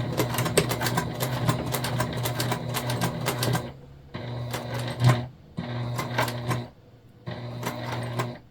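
A sewing machine stitching a self-drafted tote bag runs in rapid mechanical bursts, one long run followed by three shorter ones with brief pauses between, close and clear.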